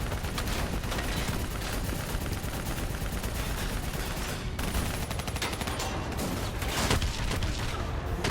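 Sustained gunfire and explosions from a battle in Call of Duty Black Ops III, loud and dense throughout with rapid overlapping shots, booms and crashes, no voices clearly standing out.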